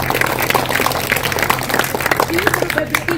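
An audience applauds as thanks, a steady patter of many clapping hands at moderate distance, with talk and a low hum running underneath throughout.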